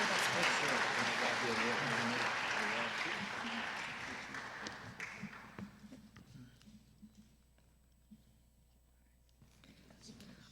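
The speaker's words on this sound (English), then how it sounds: "let's give a round of applause to recognize all the veterans that are in our audience" A school audience at a veterans recognition event applauds for several seconds. The applause starts full and steady, then thins to scattered claps and shuffling in a large room.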